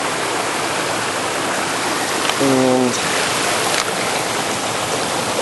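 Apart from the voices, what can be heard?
mountain creek flowing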